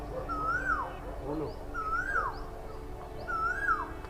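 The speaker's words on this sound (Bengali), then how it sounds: "এখন বসন্তকাল আর এই পলাশ বাগানে কি সুন্দর কোকিল ডাকছে দেখো" In a spring palash forest in Belur, a koel sings three rising-and-falling whistled calls at even intervals over a quiet outdoor background.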